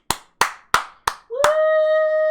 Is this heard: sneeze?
no